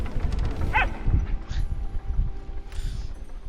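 Plume hound dog in the cozy video game Palia gives a few quick yips and barks over steady background game ambience and soft clopping footsteps, moderately close, with no talking.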